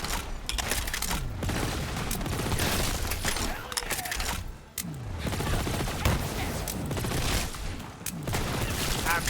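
Dense, continuous gunfire and explosions from a Borderlands 3 firefight, with rapid bursts that barely pause across the whole stretch, loud and close. A voice talks now and then beneath the shooting.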